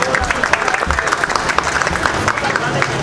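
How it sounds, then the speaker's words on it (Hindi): An audience at an Independence Day celebration and prize-giving ceremony claps steadily, with dense, close applause and scattered crowd noise running through the whole stretch. "आपकी भरपूर तालियों में"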